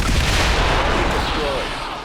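Heavy explosions from the turn-based strategy game XCOM 2: War of the Chosen, a dense continuous roar of blasts and rumble that fills the clip and slowly fades toward the end.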